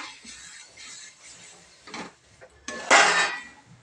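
Besan batter with sesame beaten and stirred in a pan for kothimbir vadi, with soft scraping and clattering strokes that grow into louder metallic scrapes near the end, close and with no voices.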